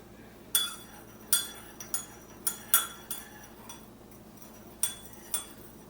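Metal spoon clinking against a cup while sugar is stirred into Hong Kong milk tea: a series of sharp, bright taps at irregular intervals, close and fairly quiet, with no talking.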